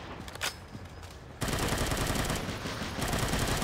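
Automatic gunfire in the zombie shooter Unkilled: a quieter stretch with a few scattered shots, then a loud, dense, continuous burst of rapid fire that sustains to the end.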